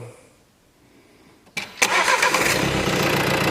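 A 2016 Renault Kadjar 1.5 dCi diesel with a fault that stops it revving after a service cranks briefly and catches, then settles into a loud, close, steady clattering idle after a quiet start.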